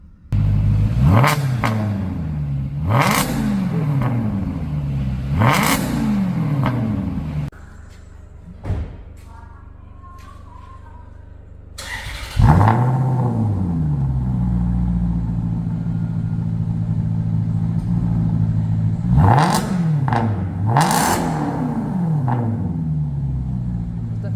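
Maserati GranTurismo S exhaust before and after a valve delete, loud rising and falling revs repeated in bursts, a quieter idle stretch in between, then more strong revving.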